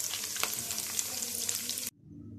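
Potato cheese nuggets deep frying in hot oil, a loud steady sizzle and crackle that cuts off abruptly near the end, leaving a quieter low background.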